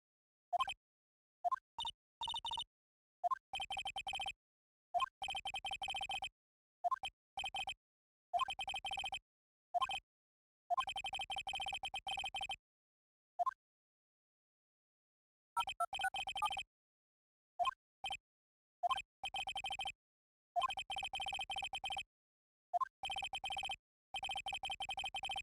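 A telephone rings in the video game Phoenix Wright: Ace Attorney, with electronic bursts repeating in a steady on-off rhythm, separated by clicks and brief silences, including one longer pause midway.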